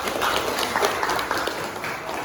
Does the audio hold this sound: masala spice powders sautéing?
no